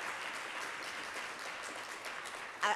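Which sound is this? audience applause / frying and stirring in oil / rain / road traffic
audience applause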